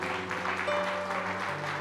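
A church congregation at a Spanish-language service applauds for the Lord, a steady wash of clapping under a sustained musical tone, even and close throughout.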